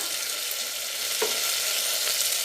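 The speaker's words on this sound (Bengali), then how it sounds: "এবার ভালো করে একটু কষিয়ে নেব" Khichuri sautéing in a pan with turmeric, cumin and salt gives a steady, close sizzle, broken briefly midway by a single stir or scrape. No one speaks.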